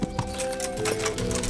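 Horse hooves clopping steadily in the video game Kingdom Come: Deliverance, a close, rhythmic run of hoofbeats with a faint neigh alongside.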